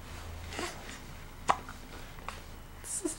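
A five-week-old baby boy hiccups a few times, small sharp isolated catches spaced out over a quiet room background, with faint soft noises between them.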